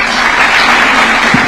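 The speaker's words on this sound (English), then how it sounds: "Another round of applause for team captain Julius Yego." Applause from a crowd at a presidential flag handover ceremony for Team Kenya, a dense, steady clapping that fills the space, close and loud throughout.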